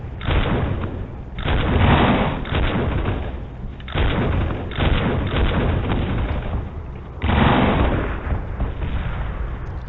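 Cannon fire in a video game, a dense run of loud, booming blasts that swell in three heavy bursts over a steady rumbling background, each surge sustained for a couple of seconds.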